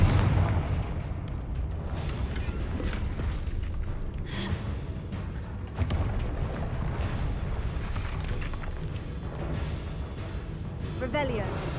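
Blasting spell explosions in the Hogwarts Legacy video game, a series of heavy booming bursts and crackling impacts over dense game combat noise, with a voice talking over the action.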